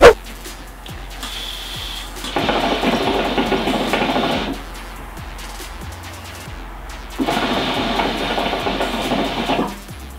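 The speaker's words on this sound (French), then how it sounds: "Un tirage quand même assez bruyant, je vous l'accorde" A hookah draw bubbles through a downstem with no diffuser, coming as two loud, harsh, sustained gurgling pulls of about two seconds each, close up, with quieter gaps and faint ticking between them.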